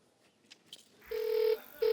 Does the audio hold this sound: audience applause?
no